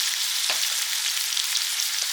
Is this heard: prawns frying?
yes